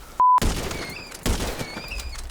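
Gunfire at a wild boar in the video game GTA 5, with two sharp shots about a second apart, the first masked by a loud beep, and the second followed by a lingering outdoor tail with faint bird-like chirps.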